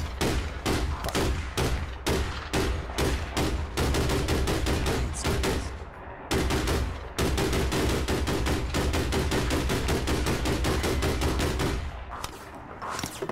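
Sustained automatic gunfire in the video game APB, dense rapid bursts of loud close shots hammering almost nonstop, with only brief pauses between long volleys.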